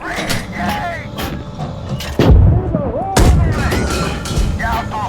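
In the PC tank game Gunner HEAT PC, a tank cannon fires twice as heavy booming blasts, with radio-style voices talking throughout over a rumbling engine.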